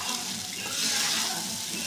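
Sabudana usal stir-fried in a pan over low heat, giving a steady, fairly loud hissing sizzle with soft scraping and stirring throughout, with no voices.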